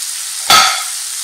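A meat stuffing with fresh chopped mint and parsley is stirred in a hot pan for cabbage rolls. A brief, close scrape-and-sizzle burst rises over a steady background frying hiss.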